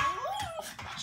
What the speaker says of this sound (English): My dogs have something they're barking at.